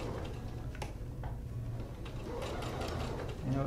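A sewing machine stitches a small child-size collar seam around a curve, running in short steady bursts of rapid mechanical ticking close up with a low motor hum.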